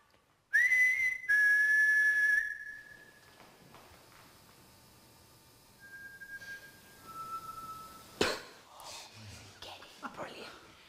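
Whistling answers a call during a live Halloween ghost hunt: a loud, sustained whistle, then a second longer one, followed later by softer, shorter whistled notes, with voices and shuffling movement between.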